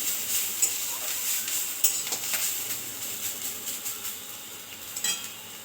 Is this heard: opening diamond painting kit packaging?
no